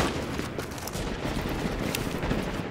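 An AK rifle fires in a video game as steady, heavy automatic gunfire, a thick run of shots with a few sharper cracks, holding loud and unbroken for a couple of seconds.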